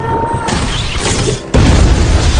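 A loud booming explosion at a prison in a film bursts in and keeps rumbling with heavy low noise. It comes after a rushing, crackling buildup, and no speech is heard.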